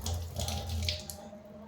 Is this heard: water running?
yes